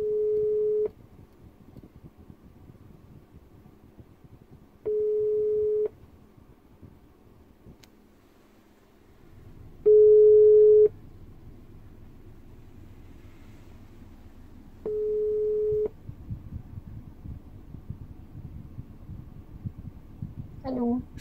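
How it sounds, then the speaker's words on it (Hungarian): Phone call tone after a voice assistant places a call: four steady ringback tones about a second long, spaced roughly five seconds apart, with low background rumble between them and a voice starting at the very end. "Calling Cute Mobile"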